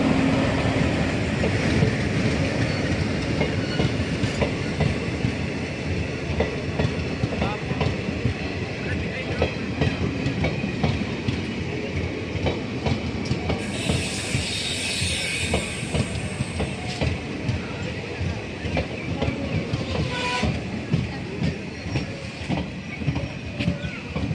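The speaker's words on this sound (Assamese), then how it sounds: "আমাৰ ট্ৰেইন সন্মুখৰ পালেহি এতিয়া বৰ্তমান।" An arriving train from Silapathar, Assam, rumbles and clatters past nearby, wheels clicking on the rails with a brief high squeal, loud and continuous.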